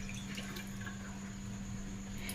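Milk poured into a heated pot while making masala tea, a faint low liquid trickle and drip over a steady background hum.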